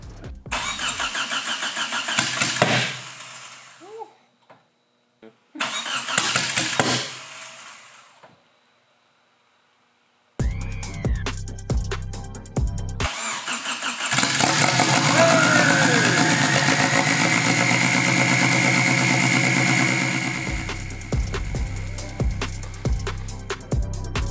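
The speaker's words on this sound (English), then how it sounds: "the car is all together now and we're ready to fire it up" A car engine cranks and fires, then settles into a steady idle with a revving rise, fairly close and loud, after some brief mechanical noises.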